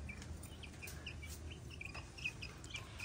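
Chicks kept in a village yard give faint, quick high chirps, several short peeps scattered over a low rumbling background, distant and quiet.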